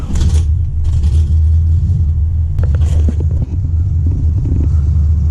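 1996 Impala SS with an LS1 engine swap cranks and settles into a loud, steady low idle rumble, close up and continuous for several seconds with a faint clank partway.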